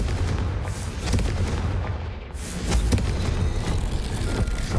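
A Confringo fire spell blasts in the Hogwarts Legacy game, a loud booming burst followed by a rolling explosive rumble and crackling debris, dense and continuous throughout.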